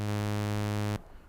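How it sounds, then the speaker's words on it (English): An Arturia PolyBrute synthesizer plays a loud, buzzy sawtooth-wave note that holds steady for about a second and then cuts off abruptly into quiet room noise. "we've got a sawtooth"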